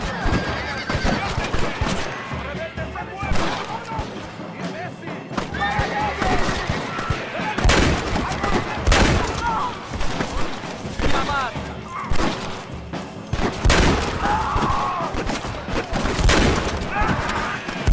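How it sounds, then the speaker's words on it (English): In the Red Dead Redemption game, gunfire crackles in repeated sharp bursts amid a fight at a rebel camp, mixed with horses neighing and clopping, with voices shouting over the action. "¡Cómo cantan las balas! ¡Escucha, loco!"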